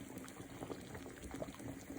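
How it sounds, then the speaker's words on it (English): Ghanaian peanut butter soup with goat meat boiling in a pot, a soft continuous bubbling with small irregular pops, fairly faint and close, with no talking. "Our soup is boiling"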